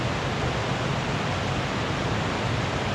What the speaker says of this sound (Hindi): बहुत ही प्यारी वाटरफॉल है